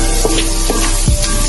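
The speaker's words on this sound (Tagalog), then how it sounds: "Gawin natin na maluto itong sibuyas at saka luya." Onion and ginger sauté in a pan of hot oil, making a loud, steady sizzle close by with faint stirring scrapes throughout.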